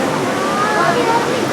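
Abbey Falls in Coorg pours as a steady, even rush of falling water, with a voice talking briefly over the constant roar.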